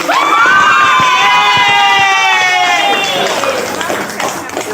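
Students in a high school classroom cheer and whoop loudly after poster presentations, a bright chorus of young voices shouting together with some clapping, sustained for several seconds before fading.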